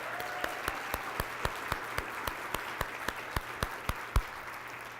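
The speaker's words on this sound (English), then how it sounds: "Let's give them like a huge round of applause." Audience at a 2018 keynote clapping for military members in the room, the claps landing in a steady, evenly spaced rhythm at moderate volume, with no talking over it.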